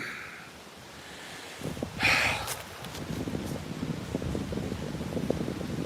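Gusty outdoor wind rumbles and rustles steadily, building after a brief quieter start, with a sharp hissing burst partway through.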